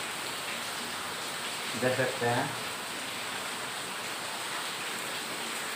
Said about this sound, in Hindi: ये बाहर है, आप लोग को दिखा दे रहे हैं कितना बारिश हो रहा है।